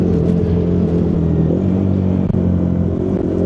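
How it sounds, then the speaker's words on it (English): A Hero Xpulse 210 motorcycle engine downshifts, its loud, close drone shifting pitch in steady steps with a brief dip midway. "Here are the downshifts."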